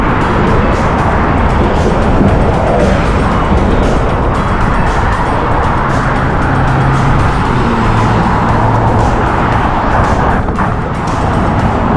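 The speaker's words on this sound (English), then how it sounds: "And tour buses are coming now." Tour buses and other traffic roll past on the Golden Gate Bridge in San Francisco, a steady loud road rumble and tire roar close by that lasts the whole stretch, with no voices.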